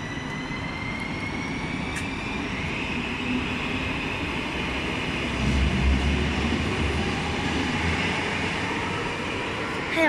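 A Helsinki metro train runs between stations, a continuous rumbling roar of wheels on rail with a faint rising whine, swelling briefly louder midway before settling, with no talk.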